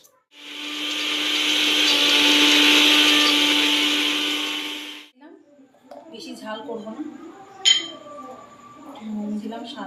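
A mixer grinder whirs loudly as it dry-grinds chillies for a curry leaf peanut chutney, running steadily for about five seconds before cutting off, followed by clinks and a voice speaking.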